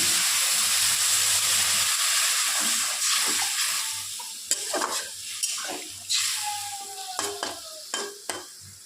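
Okra and poppy seed curry in a pan sizzles loudly for a couple of seconds after a splash of water, then the hiss fades as a spoon scrapes and clinks against the pan in short, irregular strokes.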